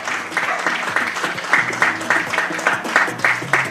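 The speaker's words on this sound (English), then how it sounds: "please give Miss Wilson a huge round of applause" Audience applause at a studio grand opening, rhythmic group clapping that pulses in roughly even beats, close and fairly loud, with a low voice or tone running underneath.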